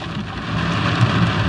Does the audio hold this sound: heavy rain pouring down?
yes